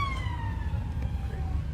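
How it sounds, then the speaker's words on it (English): A police car siren passes in the background, its wailing tone sliding downward as it goes by. It sounds moderately loud over a low rumble of traffic or crowd noise. "a police car with sirens can be heard in the background"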